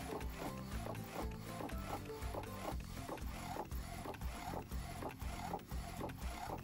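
A McLaud DTF printer runs a print job, its mechanism giving a steady, busy whir with repeated rhythmic pulses and clicks as the head travels, loud and continuous with no talking.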